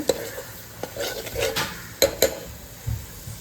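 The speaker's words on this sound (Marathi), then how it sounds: "हे छान मिक्स करून घेते एक दोन मिनटं ह्याला चांगलं शिजवून घेते" Masala paste being stirred into a vegetable curry in a pan, with soft scraping of the spoon and a few sharper clinks against the metal over a faint background sizzle. Nobody speaks.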